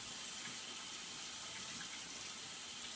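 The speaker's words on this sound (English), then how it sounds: "Some water." Water pours steadily into a washing machine at the start of a wash cycle, a constant rushing hiss with a low hum underneath.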